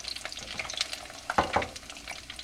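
Homemade breakfast food sizzling in hot oil in a pan, a steady close crackle with a few stirring scrapes and brief louder spits, no talking.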